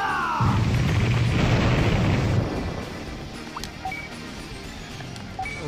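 In a Digimon game, the Fox Fire attack bursts as a loud blast that rumbles for about two seconds, then fades into quieter game effects and scattered chimes.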